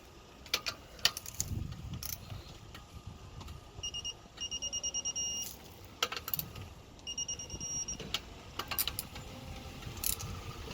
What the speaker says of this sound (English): You want your torque wrench and you want to tighten it to 110 newton meters for the Corsa VXR.